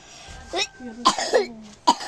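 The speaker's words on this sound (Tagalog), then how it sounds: "Huwag ka dyan umubo din" A few sharp coughs come in short bursts, mixed with brief bits of talking nearby.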